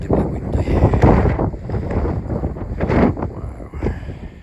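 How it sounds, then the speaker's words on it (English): Strong gusts of wind on an exposed hilltop, Earl's Hill, buffet the microphone in loud, rumbling surges that rise and fall over a few seconds. "but it's incredibly windy."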